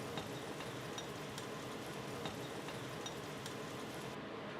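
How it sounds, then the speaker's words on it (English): Chopped Italian plum tomatoes hit a hot pan with mushrooms for a haddock Provencal sauce, giving a dense, steady sizzle and crackle that stays loud and even throughout, with faint stirring ticks. "I'm going to add the chopped tomatoes."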